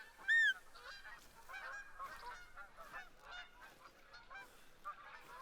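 Geese honking in theHunter: Call of the Wild, one loud nearby honk followed by a scattered chorus of fainter, more distant honks and calls from a flock.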